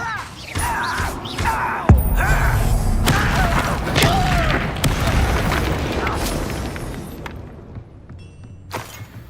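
Spells fly in Hogwarts Legacy as Bombarda and Confringo blasts go off, sharp magical whooshes and a heavy thump followed by rumbling, crackling debris, loud and busy before fading toward the end.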